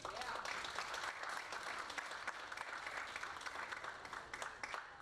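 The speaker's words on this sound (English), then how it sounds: "another round of applause for our seniors" A full round of applause for seniors from a large audience at a high school spring art show, sustained and even, starting strong and thinning slightly toward the end.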